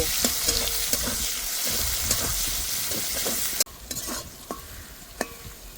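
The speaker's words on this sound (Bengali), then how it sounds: "কুচি করা পেঁয়াজ, পেঁয়াজটা ভালো করে ভেজে নেব" Chopped onion and a dried red chilli with cumin frying in hot oil for a Bengali catla fish curry, a steady close sizzle for about three and a half seconds that cuts off abruptly, leaving quieter scattered clicks and crackles.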